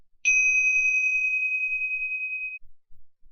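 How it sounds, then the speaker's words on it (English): A single clear strike of a meditation bell, its pure tone ringing out and slowly fading in an otherwise quiet room. "I'm going to start with ringing the bell."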